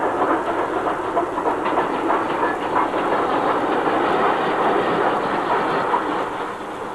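A passenger express train on rails, a steady loud rumble with rhythmic clickety-clack and hiss running continuously, with no talk over it.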